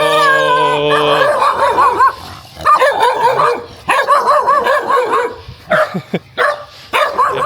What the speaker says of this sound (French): Les chiens ils voulaient pas de moi. Mais bon, on reste calme. C'est juste ils aboient, ils font rien.